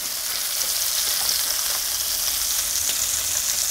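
Triggerfish fillets fry in a pan with an even, dense sizzle that holds steady and close throughout, with no voices.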